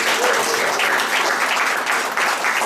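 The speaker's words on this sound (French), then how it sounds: "On peut les applaudir bien fort." Wedding guests at a town hall civil ceremony applaud loudly, a close, dense, continuous burst of clapping filling the whole moment.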